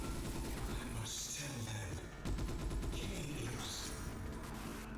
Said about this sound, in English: that guy's got an assault rifle